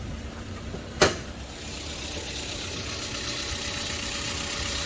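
A 2013 Toyota Etios Liva engine idles with a steady mid-pitched hum, close by. A single sharp click or knock sounds near the start, and no one speaks.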